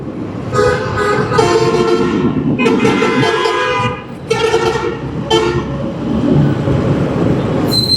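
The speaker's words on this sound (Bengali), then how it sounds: "ওই বাসটা মাত্র যে এত লাউড নয়েজ করলো, হর্ন দিয়ে এমনভাবে আসতেছিল" A bus horn blares repeatedly in long tonal blasts over its heavy rumble on Savar EPZ Road, Bangladesh, then the bus roars past close by.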